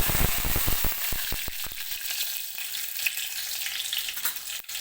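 Crushed garlic, cumin seeds and curry leaves sizzle and crackle in hot oil while cooking a Maharashtrian thali, with a burst of sharp pops at first that settles into a steady, loud frying hiss.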